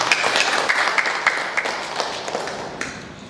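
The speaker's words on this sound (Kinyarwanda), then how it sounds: "Twakomera Imana amashyi menshi cyane" Scattered applause at a church ministry ceremony closing a sewing training course, a thinning patter of separate claps that fades over a few seconds.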